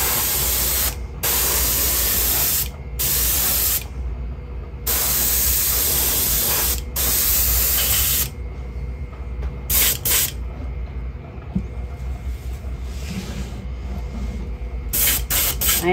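Airbrush at about 35 psi spraying silver paint onto a kokanee fishing lure, hissing in several long steady bursts separated by short pauses, then shorter sporadic puffs, close and fairly loud.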